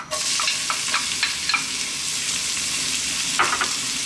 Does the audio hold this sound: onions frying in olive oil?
yes